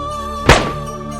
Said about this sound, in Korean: 복도를 울리는 총성.